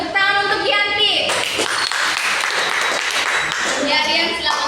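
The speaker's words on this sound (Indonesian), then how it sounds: "Tepuk tangan untuk Yanti." Classroom applause for a student, a burst of clapping from a group of schoolchildren mixed with voices and chatter, close and lively throughout.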